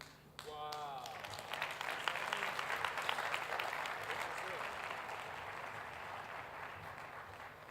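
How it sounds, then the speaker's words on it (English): Congregation at a church talk applauding a group of about forty ministry interns, a brief spoken voice giving way to steady clapping that swells and then gradually tapers off. "Let's give them a hand clap."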